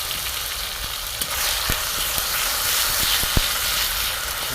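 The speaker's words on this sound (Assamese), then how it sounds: "এতিয়া মই ধুনীয়াকৈ মছলাখিনি ভুনিম" Spices fry with onions already browned red in a pan for a curry. A steady, bright sizzle carries throughout, broken by a few sharp clicks of a spatula stirring.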